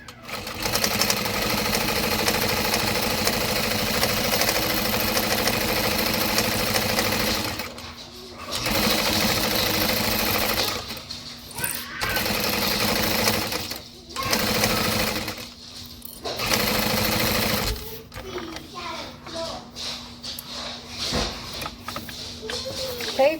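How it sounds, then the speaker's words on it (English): A sewing machine basts a pocket onto a backpack at long stitch length, running in steady whirring stretches broken by short pauses, close and loud. "And then we're going to baste it. I'm going to use my top stitch length that we just used, so 5."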